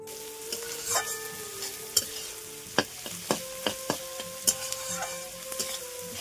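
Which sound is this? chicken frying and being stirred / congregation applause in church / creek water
chicken frying and being stirred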